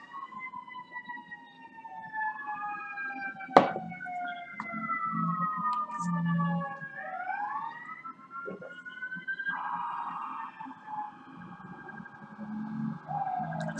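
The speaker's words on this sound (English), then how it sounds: "Sirens? Yeah, that's the Popo" Police sirens wail somewhere outside, several overlapping tones rising and falling in long sweeps, fairly faint and distant, with low background noise and a sharp knock partway through.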